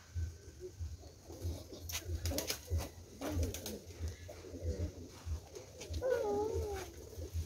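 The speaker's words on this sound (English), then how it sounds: "These are the fancy pigeon rock doves as well, so it's a mixture." Fancy pigeons and rock doves coo in soft, repeated phrases at a bird sanctuary, close and steady against low background rumble, with a louder warbling coo near the end.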